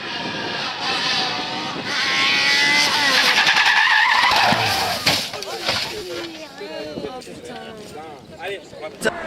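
Race cars spin and crash in an IndyCar-style race, with engines howling, tyres skidding and a loud impact, while an excited commentator talks over the noise.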